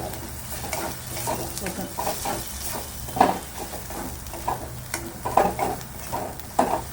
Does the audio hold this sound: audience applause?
no